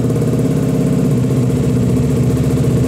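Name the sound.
KTM Duke motorcycle engine revved sharply with throttle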